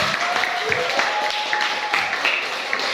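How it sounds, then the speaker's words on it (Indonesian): Brief applause from a classroom of students for a group that has just presented, a short burst of scattered clapping at moderate volume with some voices mixed in. "Kita kasih aplaus untuk kelompok 2"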